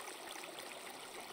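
Steady broadband rush of flowing water in the block-building game Creativerse, a continuous stream-like wash filling the whole moment without any break or voices.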